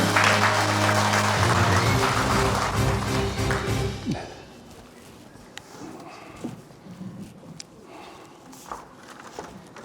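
Audience applause at an opening ceremony, a dense burst of clapping for about four seconds that cuts off, followed by scattered taps, footsteps and murmurs in a quiet hall.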